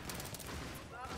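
Dense gunfire rattles in the Battlefield 3 co-op mission, a faint continuous burst of rapid shots with a voice partly over it.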